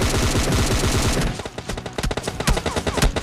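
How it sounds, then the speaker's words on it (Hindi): Rapid automatic gunfire in the battle royale video game PUBG during a squad fight, with dense continuous bursts that break into close, loud, separate shots near the end. "भाई सामने से गोली की आवाज आ रही होती है"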